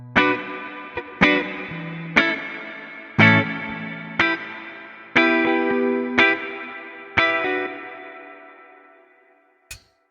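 Guitar notes plucked one at a time through a hall reverb pedal with modulation, each note ringing out into a long shimmering, gently wavering tail, about eight notes spaced roughly a second apart, with no talking.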